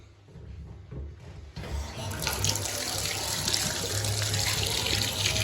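A tap in a plumbing job bursts into a strong gushing flow as the water supply is turned back on, starting quiet and then holding as a loud, steady splash close by.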